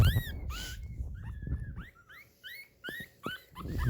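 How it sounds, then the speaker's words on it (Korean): Puppies whimpering and squeaking in short, high-pitched cries, several in a row with brief pauses, close by, with soft rustling underneath. "뭘 그렇게 낑낑대는 거야?"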